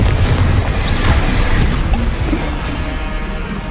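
Confringo explosive spell cast in the Hogwarts Legacy video game, a loud, dense booming blast that rumbles through the low end and slowly decays over several seconds.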